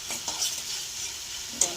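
Garlic mixture frying in a pan for chicken momos is stirred with a utensil. A steady sizzle runs throughout, with a few short scraping stirs, near and clear, and no talk.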